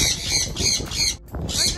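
A pet bird gives a rapid series of loud, harsh squawks at close range, four or five rasping calls in quick succession.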